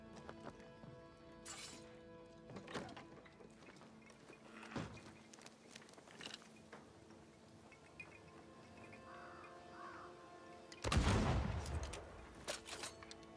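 Several sharp rifle-like gunshots in the video game Banishers ring out at irregular intervals over a quiet electronic hum, with one louder, longer burst near the end.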